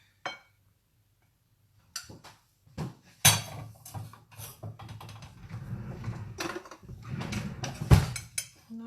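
Rice being served onto a plate at home: a few scattered clinks and scrapes of a serving spoon against dishes, fairly quiet, with one sharper knock near the end.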